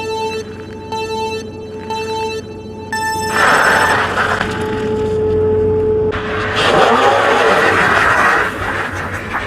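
A RINCC RN70 dual-motor 1500W electric bike launches from a standstill several times, its motors whining up in pitch with each burst, followed by rushing wind and tyre noise as it speeds away.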